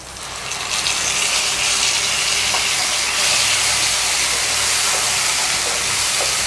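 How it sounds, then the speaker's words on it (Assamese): A paste of tomato and onion sizzles steadily in a pan, a dense continuous hiss that holds even and fairly loud throughout with no talking. "এতিয়া ইয়াৰ পেষ্টটো, বিলাহী আৰু পিঁয়াজৰ পেষ্টটো মই অলপ ভাজি ল'ম।"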